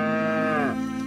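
A single cow gives a long, close, clear moo that holds steady, then drops in pitch at its end, heard alone as part of a fairy tale about a poor family's cow.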